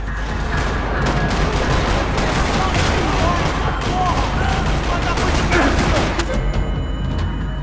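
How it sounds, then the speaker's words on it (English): Gunfire fills a parking lot in the video game Max Payne 3: loud, dense, overlapping bursts of automatic and single shots rattle without pause for the whole stretch, with thuds mixed in. "Another parking lot rattling with gunfire."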